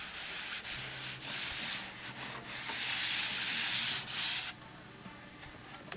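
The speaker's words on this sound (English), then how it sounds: "Once I get all of the sanding done that is reasonable" Steady abrasive sanding, scraping back and forth in long strokes with brief pauses, close and fairly loud, ending with a quieter stretch.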